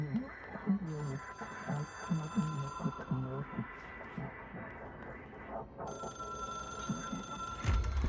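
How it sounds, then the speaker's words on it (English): A telephone rings in the video game Control. Repeated electronic ring bursts play over game ambience and background music, fairly quiet and near, with no talk. "It is a phone."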